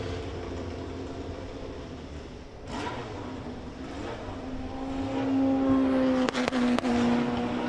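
A race car at the Silverstone Festival 2025 roars past under braking on the overrun, its engine note building and rising, then a few sharp crackles and pops near the end.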